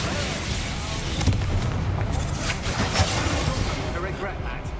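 Confringo and Bombarda spell blasts in Hogwarts Legacy, a dense run of booming bursts and crackling impacts in quick succession under a spoken voice, loud and close.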